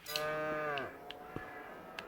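A cow in the Farming Simulator 22 video game lets out one long, clear moo that falls off at the end, followed by a few soft scattered knocks against quiet background.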